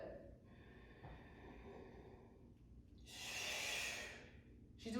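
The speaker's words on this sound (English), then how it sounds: "she's breathing out through her mouth as she pushes up" A woman exhales audibly through her mouth while pushing up during a home push-up workout, a soft breathy release building to a louder rushing breath near the end, with no talking.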